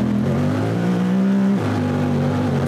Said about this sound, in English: So right now we're full pinned open.